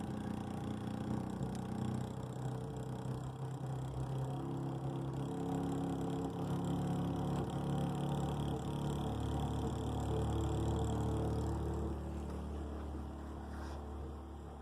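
A homemade pulse motor runs steadily with a chain riding loosely on the rear sprocket, giving a low continuous mechanical drone and rattle that holds at an even, fairly quiet level throughout.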